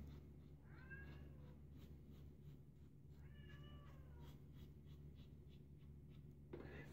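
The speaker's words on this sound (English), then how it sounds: "See how long before the cat gives up." A cat meows twice from nearby, two drawn-out plaintive calls a couple of seconds apart, over a steady low hum, with a faint clatter at the very end.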